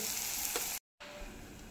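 Dried Bombay duck fish frying with onion in a pan on a gas flame gives a steady close sizzle, broken by a brief silent cut before the sizzling resumes.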